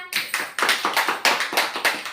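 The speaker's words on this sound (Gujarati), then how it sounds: "સરસ તાળી પાડો બધા" Children clapping their hands together during a vegetable-naming lesson, about eight sharp, close, loud claps in quick succession.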